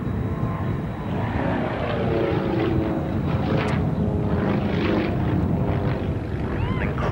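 An aeroplane performs a flying display at the 1991 RAF Valley Airshow, its engine droning steadily and shifting in pitch as it passes, loud and continuous over a crowd backdrop.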